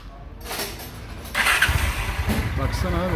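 A Honda Shadow motorcycle engine being started in a workshop after repair, cranking into a loud, rough running idle up close, with a voice speaking over it.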